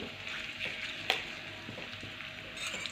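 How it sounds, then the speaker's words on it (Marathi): Crushed garlic fries in hot oil with a soft, steady sizzle. One sharp clink and a few light stirring strokes cut in, and no voices are heard. "लसूण आपल्याला छान प्रकारे लाल रंगावरती परतून घ्यायचं आहे"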